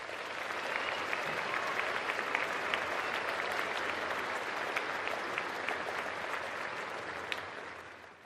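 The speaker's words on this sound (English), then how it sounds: "Please join me in giving the awesome class of 2022 a round of applause for their many achievements and" A graduation ceremony audience gives the class of 2022 a round of applause, a full, even roar of many hands clapping that holds steady from start to finish with only a few sharper claps standing out.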